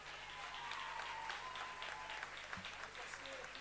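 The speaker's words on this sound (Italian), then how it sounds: "qui voglio un bel applauso per Elena Oppici" Audience applause for a performer at a live event, a steady dense wash of clapping that holds at an even level throughout, with some crowd noise mixed in.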